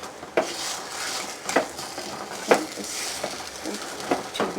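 Stirring pasta mixture in a pan for Indian-style pasta: a utensil scrapes and clinks against the pan in regular strokes about once a second, close and fairly quiet, with a faint sizzle underneath.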